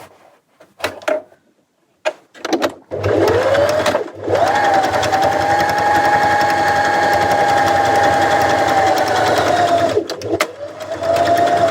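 Sewing machine stitching a folded top edge with a 1 cm seam allowance: a few short clicks and bursts, then one long continuous whirring run of needle stitching, close and loud, ending with a brief stop and restart.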